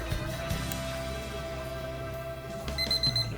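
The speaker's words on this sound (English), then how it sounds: "you'll always get the three beeps when you start it up" Three short, high-pitched startup beeps from a SMARTRO ST54 digital meat thermometer sound near the end over a steady low background hum.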